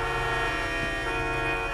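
Car horns honk in GTA 5 during a crowded go-kart race event on a roleplay server, a steady, loud, sustained blaring tone that persists throughout with no break.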